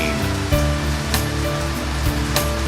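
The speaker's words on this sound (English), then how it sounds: "and now it's starting to rain." Rain falls steadily in East Liverpool, Ohio, a dense, loud, continuous hiss that fills the whole stretch, with a few sharper splashes standing out.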